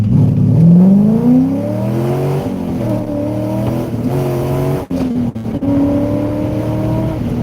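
C5 Corvette launching hard with traction control off, the engine loud and close as it revs up through rising pitch, drops briefly at each gear change, then climbs again under sustained acceleration.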